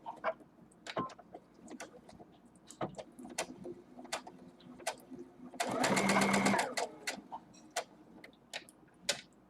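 A sewing machine runs in one short dense burst while back stitching the start of a fabric face mask seam, rising loud over quiet handling noises and brief clicks before and after.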